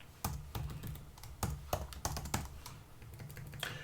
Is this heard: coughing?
no